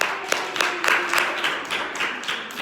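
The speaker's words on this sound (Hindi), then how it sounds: "सबके लिए तालियां" Audience applause in a talk or lecture hall, a short burst of rhythmic clapping from a small group, fairly close and steady, with no voices over it.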